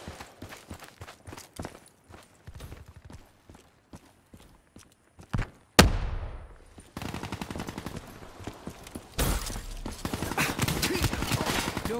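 Gunfire in the video game Call of Duty Black Ops 3: scattered single shots, then a sharp loud blast, followed by sustained rapid automatic fire that grows denser and louder toward the end.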